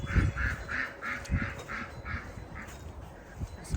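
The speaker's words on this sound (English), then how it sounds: "That's my usual good morning from the ducks next door." Neighbouring ducks quack in a steady series of nasal honks at a moderate distance, repeated roughly twice a second, over faint outdoor morning ambience, with no speech.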